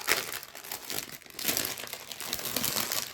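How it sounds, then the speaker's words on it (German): Plastic packaging around embroidery yarn crinkles continuously up close, a loud, dense rustling that swells and fades as the bag is handled, with no voices. "Entschuldigt bitte das Knistern."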